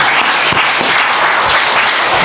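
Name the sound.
applause in church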